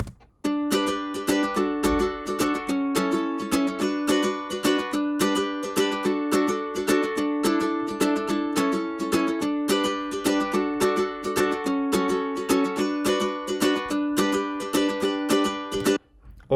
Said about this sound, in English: The main rhythm sounds like this.